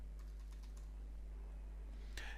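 Computer keyboard typing, a quick run of light key clicks near the start followed by a louder single keystroke near the end, close and clear over a low steady hum.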